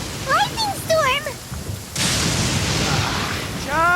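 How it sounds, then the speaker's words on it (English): Thunderstorm in Genshin Impact: a sudden crack of thunder breaks into steady heavy rain, which hisses on under animated character voices and melodic game chatter before and after. "Uh-oh! Lightning storm!"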